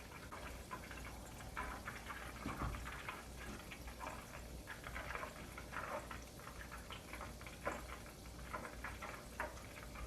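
Ghee bubbling in a pan during the third stage of clarifying butter, a steady quiet simmer of small pops and crackles close by, with no talking over it.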